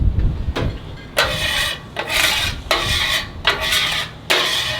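Repeated rasping scrubs of a cloth or pad working oil across a seasoned griddle outdoors, five strong strokes in a steady rhythm, close and alone.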